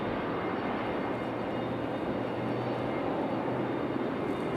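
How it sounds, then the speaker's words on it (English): A Republic Airways Embraer E175 airliner arriving at Raleigh-Durham from LaGuardia, its engines a loud, continuous broadband roar that holds steady throughout. "our next arrival is Republic Airways 4497. This one coming in from LaGuardia."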